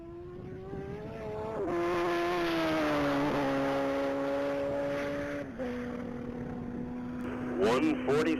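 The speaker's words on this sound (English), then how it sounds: "That's Tommy Faberglass in a 2012 Kawasaki ZX14R" A 2012 Kawasaki ZX14R motorcycle runs flat out at a mile-long top-speed racing event. A sustained high engine whine holds, then slides lower in pitch as the bike passes, and fades into a steady drone.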